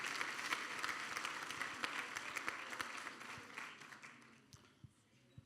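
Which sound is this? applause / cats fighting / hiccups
applause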